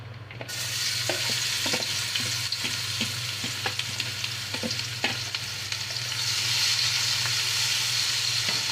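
Chopped onions frying in oil in a pan for a tilapia fish mash, with a continuous close sizzle and regular clacking spatula stirs that grow slightly louder toward the end, no voices.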